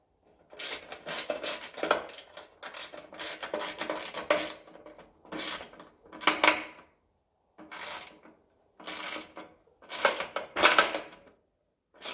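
Ratcheting and metallic clicking as the back of the dash is tightened onto the battery tray of a 1957 Ferguson FE35 TVO tractor, delivered in close, repeated bursts of rapid ratchet clicks with short pauses between strokes.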